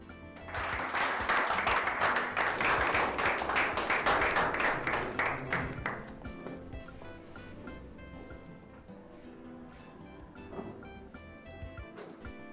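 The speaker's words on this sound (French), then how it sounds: "Continuez d'applaudir s'il vous plaît" An award-ceremony audience bursts into loud, dense clapping for about six seconds, then thins into scattered, quieter claps with a few isolated hand smacks near the end.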